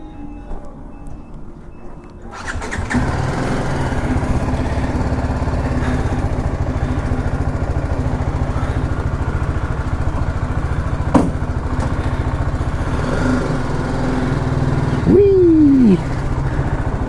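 A BMW G310GS motorcycle engine starts with a sudden catch, then idles in a loud, steady throbbing drone up close, with a short rising rev near the end; a voice talks briefly in the background.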